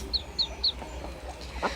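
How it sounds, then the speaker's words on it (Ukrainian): Three short, high, peeping calls in quick succession from ducklings, followed by a faint rustle over low background rumble. "Хором закричали каченята."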